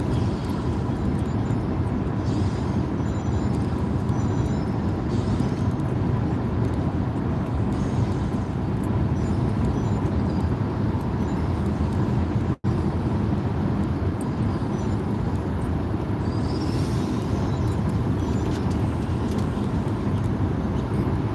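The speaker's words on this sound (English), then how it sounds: "Now we're starting to see traffic." Steady road traffic hums and rushes continuously from inside a moving vehicle, a dense even drone with faint passing sounds and one sharp break near the middle.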